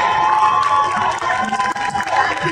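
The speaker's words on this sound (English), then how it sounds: "Round of applause for that question." A Comic Con audience bursting into applause and cheering, dense clapping mixed with shouts and whoops from a large crowd filling the hall.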